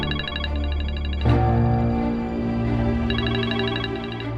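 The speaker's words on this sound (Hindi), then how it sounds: "आपका फोन बज रहा है" A mobile phone rings with a repeating electronic melody over dramatic background music in a Pakistani TV drama scene, loud and close.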